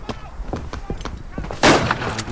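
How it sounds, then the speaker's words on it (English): Grenade blasts and battlefield gunfire in the World War I shooter Verdun, several sharp close reports followed by a louder burst around the midpoint, with a voice faintly underneath. "Grenade out right away. Spam those grenades."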